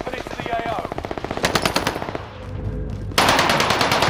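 Rapid automatic gunfire from a first-person shooter video game, loud and continuous in fast bursts, shifting to a denser burst of shots near the end.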